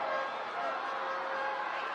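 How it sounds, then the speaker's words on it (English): Broadband roar of a home football crowd at a Southampton versus Newcastle United women's league match, a steady, fairly distant wash of noise holding at an even level with no clear individual voices. "And finally, the home crowd making some noise."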